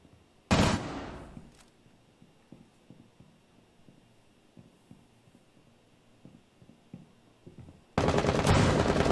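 Bursts of gunfire in a video game: a loud volley near the start and another at the end, with faint footsteps and clicks between.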